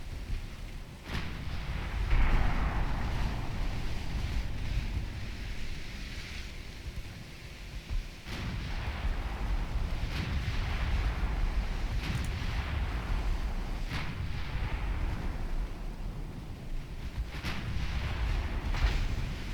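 Heavy naval guns boom in the warship battle game Ultimate Admiral Dreadnoughts, several sharp blasts spaced a few seconds apart over a constant low rumble of sea and engine noise.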